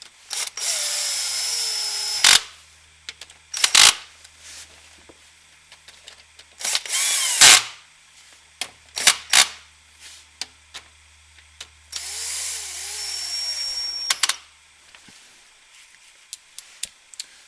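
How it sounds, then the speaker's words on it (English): A cordless drill running down transmission pan bolts on a Cadillac Seville, heard in several short whirring bursts separated by pauses, with sharp clicks and clunks between runs, fairly close and alone without talk. "I just have my drill here, and I'll put the chuck on a very low torque setting to get started."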